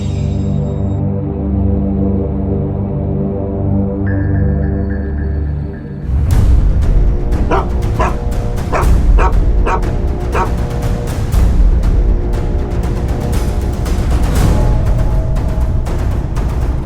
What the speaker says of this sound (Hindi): ये कुत्ता भी यहीं आकर सूंघ रहा है।